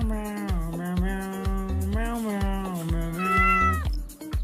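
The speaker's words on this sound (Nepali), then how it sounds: "बिरालो यहाँ माथि आऊ माथि" A pet cat meows loudly and close by in a steady string of about seven drawn-out calls, some rising and wavering, with no talking over them.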